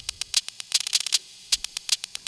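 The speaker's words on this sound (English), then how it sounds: "because I pitched it up 2 octaves here, you can actually hear it is a clap" Short, bright clap hits from a folk-music sample pitched up two octaves and harshly EQ'd fire in an irregular run of crisp, thin snaps, loud and dry, with no voice over them.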